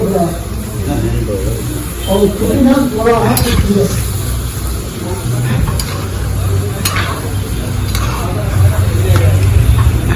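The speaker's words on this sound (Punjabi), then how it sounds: "ਮੱਠੀਆਂ ਹੋ ਰਹੀਆਂ ਤੇ ਫਰਾਈ" Jaggery mathri frying in hot oil, a steady bubbling sizzle running throughout, close and fairly loud, with occasional stirring clinks and people talking intermittently over it.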